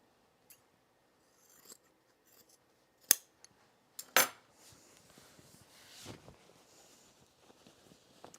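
Scissors trimming jeans fabric, a few sharp separate snips and cutting crunches spaced apart in a quiet room, no talk.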